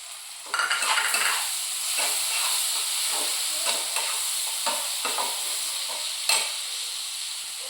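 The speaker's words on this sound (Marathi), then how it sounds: "हे सर्व असं व्यवस्थित हलवून घ्यायचं आहे" Coriander powder and turmeric being stirred in oil in a frying pan while cooking a spicy vegetable dish, a steady close sizzle with scraping spoon strokes and clinks throughout.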